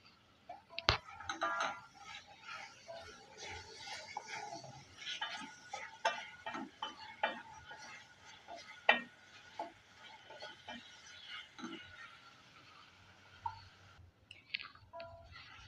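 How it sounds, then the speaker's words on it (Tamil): Brinjal pieces are stirred with salt in a pan, heard as irregular close clicks, taps and scrapes of a spoon against the pan with a quiet sizzle underneath, fading into near silence toward the end. "சேர்த்துட்டு கத்திரிக்காய்க்கு தேவையான உப்பு சேர்த்து நம்ம வதக்கிக்கலாம்"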